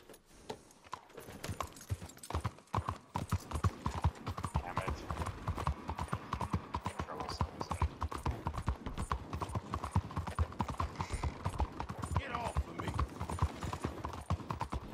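Horse hooves clop rapidly and continuously in Red Dead Redemption 2, a close, galloping rhythm of dense hoofbeats with occasional clatter, steady throughout the ride while a player talks at times.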